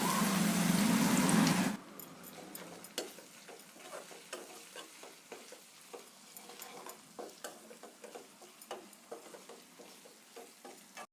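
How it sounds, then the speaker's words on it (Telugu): Ginger garlic paste sizzles in hot oil in a pan, with a steady soft frying hiss broken by repeated light clinks and scrapes of a spoon stirring, after a brief loud burst at the start. "వన్ స్పూన్ అల్లం వెల్లుల్లి పేస్ట్ అల్లం వెల్లిగడ్డ పేస్ట్ పచ్చివాసన లేకుండా ఫ్రై అయిన తర్వాత"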